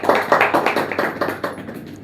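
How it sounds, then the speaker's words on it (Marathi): An audience claps for a prize winner at a lucky-draw event, a brisk burst of close applause with distinct rapid hand claps that thins slightly toward the end, no talk. "जोरदार टाळ्या होऊ द्या यांना."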